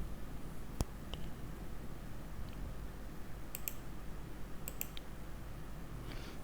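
Sparse computer mouse clicks as a folder is selected: a sharp click near the start, then a few paired clicks later, close and crisp over a low steady room hum, with no talking.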